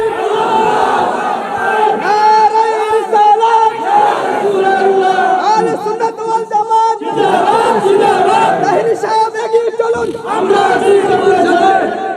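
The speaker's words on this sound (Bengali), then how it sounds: "আল্লাহু আকবার জোরে কর" A large crowd at a Bengali religious sermon gathering chants the takbir in loud, rhythmic unison, repeated roaring calls swelling and falling over about twelve seconds.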